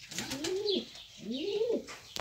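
Pigeons in an aviary coo nearby, two drawn-out rolling coos in a row, each rising and then falling, with faint background chirps and a brief rustle at the end.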